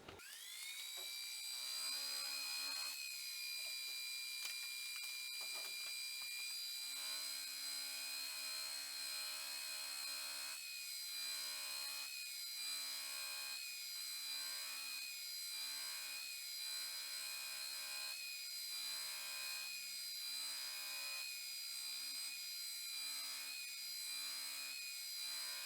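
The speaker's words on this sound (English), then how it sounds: "then we'll move on to buffing the knife." A buffing wheel spins steadily with a high, sustained whine while polishing a knife handle. The tone shifts repeatedly as the handle is pressed against the wheel, and the sound continues without talk.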